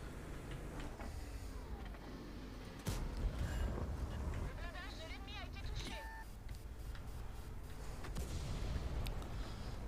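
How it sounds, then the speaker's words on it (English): Heavy tank cannon blasts boom in a light-tank battle video game, with a sharp report and a few other combat effects and beeps, all fairly faint beneath someone talking throughout. "That's two heavy shots that I dodged so far"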